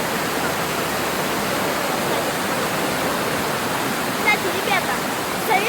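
Chegem waterfalls in Kabardino-Balkaria roar as a continuous broad rush of falling water, loud and steady from start to end, with faint voices briefly audible near the end.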